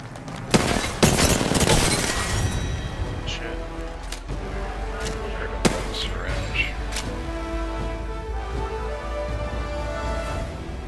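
Gunfire in the Apex Legends battle royale game: a dense burst of loud shots early on, then scattered cracks and impacts over ongoing game ambience as the firing thins out.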